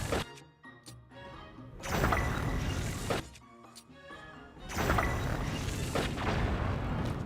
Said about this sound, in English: Enjoy the explosions.